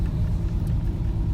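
Supercharged 3800 engine in a Pontiac Fiero idling, a brief, deep and steady low rumble heard from inside the car, loud and shaky with no talk.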